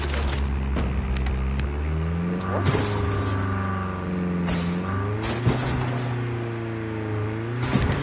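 A car engine in a shooter video game revs and shifts through repeated rising whines, loud and close, while players talk over it.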